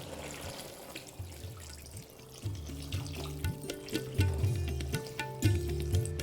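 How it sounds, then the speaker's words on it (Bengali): Water is poured into a pan of ridge gourd and lentil curry, a steady close splashing and gurgling pour with rhythmic glugs, no voices. "আর মেশানো হয়ে গেলে দিয়ে দিচ্ছি পরিমাণ মতো জল"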